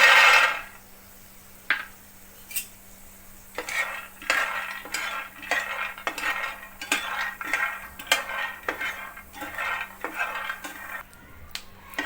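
Peanuts are dry roasted in a pan and stirred, giving sharp metallic scrapes and clinks of a spoon against the pan at irregular intervals, close and clear over a low background hum.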